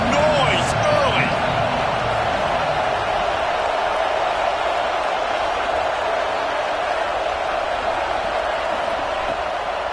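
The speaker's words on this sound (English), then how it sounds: "This crowd bringing the energy and noise early." A stadium crowd in the College Football 26 video game makes a dense, steady roar throughout, loud and continuous, with a brief thump near the start.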